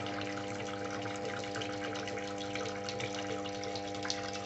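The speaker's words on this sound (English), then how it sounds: "what's actually still there is the continuous stream of water" A continuous stream of water falls from a nozzle on a vibration generator, giving a steady, even hiss and gush with a constant mechanical hum underneath, fairly quiet and uninterrupted.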